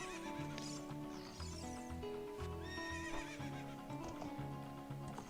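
A horse whinnies and neighs in The Legend of Zelda: Ocarina of Time, with soft game hoofbeats and music behind it, a rising neigh cutting through near the middle.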